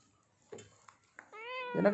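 A cat meows clearly and close by, a drawn-out meow followed by a louder one, with a few soft clicks and rustles before.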